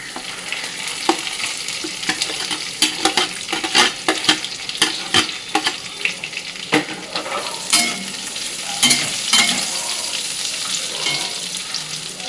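Vegetables being stir-fried one by one for fried rice with cashews and raisins in hot oil: steady sizzling with frequent sharp scrapes and clinks of a spatula against the pan, close and clear throughout.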